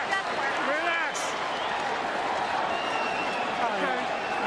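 Mexican crowd roaring at a boxing arena during the Pacquiao vs Marquez fight, a dense, steady wash of cheering and shouts filling the whole clip, with a commentator's voice faintly mixed in.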